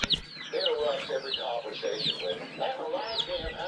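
Pet rooster among young birds, clucking and chirping in a busy enclosure, with a steady run of calls close to the listener.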